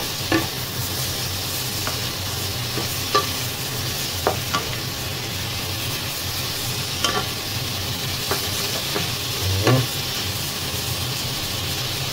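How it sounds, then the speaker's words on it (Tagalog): A pan of ampalaya is stirred over the heat with a faint steady sizzle, and soft scraping clinks of the utensil come at irregular intervals. "likos-likos lang yan saglit"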